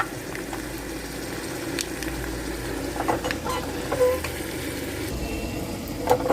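Tempering of dried red chillies and asafoetida fries in hot oil with a steady low sizzle and bubbling. Occasional light clicks of stirring rise above it.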